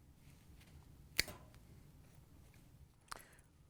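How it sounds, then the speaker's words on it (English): Wire cutters snip through the wiring harness of an Amana range's ceramic terminal block, two sharp close clicks about two seconds apart over a quiet room. "We're just going to take our wire cutters and cut both the wires."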